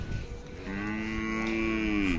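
A single long, drawn-out moo from a Khillar cow, close and clear, rising and holding steady over quiet background noise.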